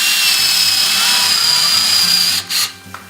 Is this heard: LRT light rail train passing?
no